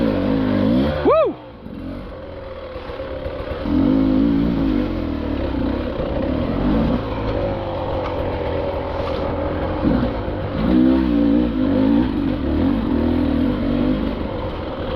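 Onboard engine of a Beta 300RR Race Edition enduro motorcycle on a mountain trail, a steady close drone that rises and falls as the throttle opens and eases, with one brief dip early on.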